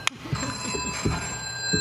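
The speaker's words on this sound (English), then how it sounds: "and that's my phone." Telephone ringing at a talk: a steady electronic ring plays throughout, continuous and fairly loud, with low background murmur and a few bumps underneath.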